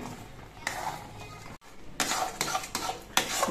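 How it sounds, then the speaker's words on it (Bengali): Thickened milk is stirred in a pan with a metal utensil in short scraping, clinking strokes, close and fairly loud, with a brief pause before the stirring picks up again. "এবার কিন্তু দুধটা একটুখানি বাদে বাদে নেড়ে দিতে হবে, নাহলে দুধটা আবার নিচে লেগে যেতে পারে।"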